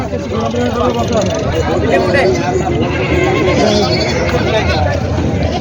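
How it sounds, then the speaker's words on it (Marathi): Goats bleat repeatedly and loudly amid steady crowd chatter and talking at a busy rural goat market in Vasmat, Maharashtra. "ही शेळी आहे"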